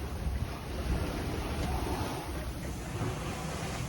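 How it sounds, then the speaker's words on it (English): Strong wind roaring over a sailboat at sea with the rail dipping into the water, a constant loud gusty rush with wind buffeting the microphone and waves washing beneath, no voices. "Oh boy, just got real windy."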